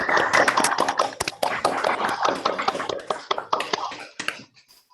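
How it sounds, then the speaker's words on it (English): Participants on an online lecture call unmute and applaud, producing a patchy mix of scattered individual claps and taps from several microphones, fairly close and uneven, fading out near the end. "everyone here on the call should unmute and give Joachim a big round of applause for his 3 excellent lectures."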